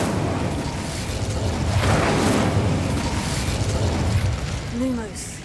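The Incendio fire spell is cast in the video game Hogwarts Legacy. It makes a dense, roaring whoosh of burst and crackle that runs loud through the whole stretch, and a voice is heard speaking near the end.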